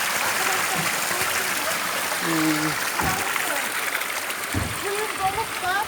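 Water from a row of fountain troughs runs and splashes steadily into a basin on a snowy day. Constant rushing flow, with people talking over it.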